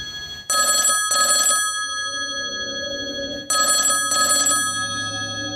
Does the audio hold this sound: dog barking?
no